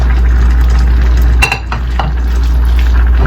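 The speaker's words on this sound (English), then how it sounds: "We're just going to mix it all together." Rice noodles with vegetables being stirred in a pan, a loud steady sizzle with a low hum underneath and a few scraping utensil knocks partway through, no voices.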